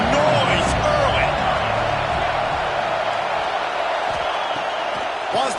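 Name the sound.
football stadium crowd noise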